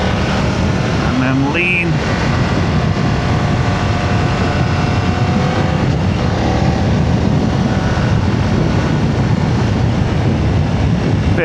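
Engine of a 2025 BMW F900R motorcycle pulling steadily under acceleration while cornering, a continuous loud drone with rising tones and heavy wind rush throughout, with a rider's voice speaking briefly over it.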